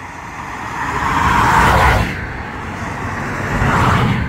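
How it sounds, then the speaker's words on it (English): Road traffic passes by on a roadway along a winter Camino pilgrimage route in Spain, with a car swelling loudly as it goes past, then fading before another approaches. "Oh, there's a lot of traffic, isn't there?"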